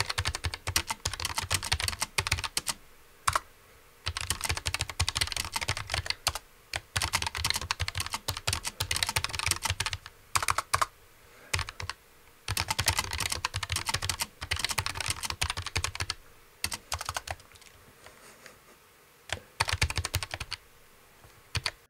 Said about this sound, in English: It feels really nice to type on this keyboard, and I'll shut up now for a few seconds so you can actually hear it.